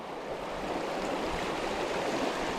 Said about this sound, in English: These little mountain streams like this.